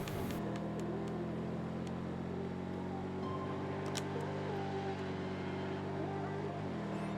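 A racing car in the Hot Lap League video game drones with a steady, faint engine hum, its pitch shifting slightly over several seconds, with a few small ticks over a quiet background.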